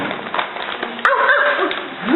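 A person's voice mimics a dog's bark, a short sharp yelp rising out of a noisy background with other voices murmuring around it.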